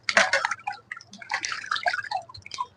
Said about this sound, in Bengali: আগে মাথাগুলো চলো ধুয়ে নি